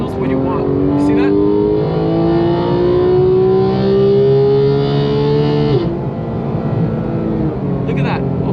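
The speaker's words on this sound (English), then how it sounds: "you just accelerate pedal to the metal and the car knows what you want" A Porsche 991.2 GT3 engine pulls hard under full throttle, its loud, steady whine climbing smoothly in pitch for several seconds before a brief dip at a gear change and a continued rise.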